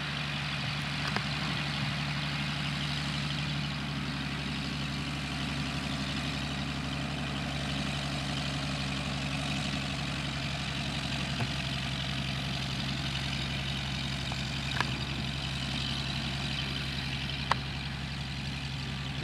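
Steady drone of a Jabiru engine idling on a Zenair light aircraft, a constant low, even hum running unbroken with a few faint clicks over it.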